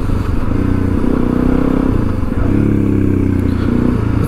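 A Suzuki DRZ400E dirt bike idles close and loud with a steady throbbing engine note, a brief clunk and dip as it is shifted toward neutral before the idle settles again.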